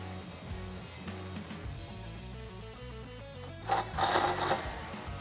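Power tool tightening the mounting bolts of a WARN ZEON 12-S winch on a Jeep Wrangler, a steady buzzing whir that shifts pitch in stepped pulses, then a short harsher burst near the end.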